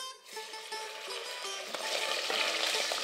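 Meat hits hot oil in a pot and sizzles, a crackling hiss that builds and stays loud and steady, close up, with occasional stirring knocks.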